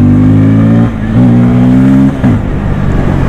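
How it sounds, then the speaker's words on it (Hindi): A 2024 Bajaj Pulsar N250 motorcycle engine revs hard and close, a loud buzzing exhaust note climbing in pitch, dropping briefly between gear changes, then pulling up again. "बाइक का साउंड काफ़ी प्यार आ रहा है, देखो अभी एग्जॉस्ट नोट सुनना"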